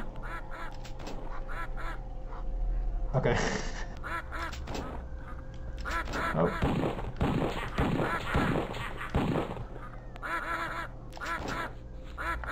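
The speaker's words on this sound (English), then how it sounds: "Oh, I hear ducks." Ducks quacking inside the 3DO horror game Killing Time, repeated nasal calls in bursts across the scene, fairly close and mixed with other game sounds, with a man's brief spoken interjections over them.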